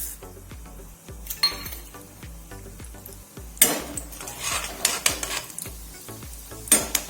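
Chana dal and urad dal sizzling in hot oil in a kadai, with a soft crackle under repeated spoon scrapes and metallic clinks against the pan, close and uneven in rhythm, with no talk.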